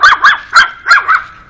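A small pug barks five times in quick succession, sharp yappy barks close to the listener, with no talking.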